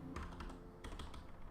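Rapid clatter of computer keyboard typing in a studio, dense overlapping keystrokes pattering like rain on a tarp, steady and close with no voices.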